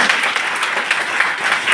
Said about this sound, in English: give a huge round of applause for all these little kids.